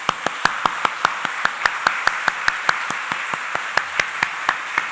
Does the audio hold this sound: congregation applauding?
yes